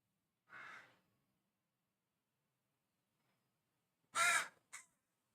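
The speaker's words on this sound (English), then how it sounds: "there's like a family of crows that have just been born" A family of young crows calls outdoors in a quiet setting: one short caw, a long silence, then a louder caw followed quickly by a brief third one.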